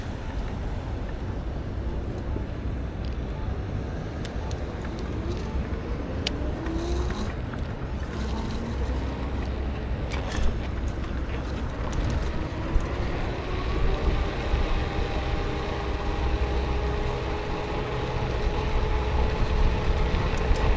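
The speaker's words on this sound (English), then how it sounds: "Incredible amount of traffic." Heavy road traffic at Tustin Ranch, heard from an e-bike: a constant rush of engines and tires under blustery wind noise, with passing vehicles' tones sliding by and the din growing louder toward the end.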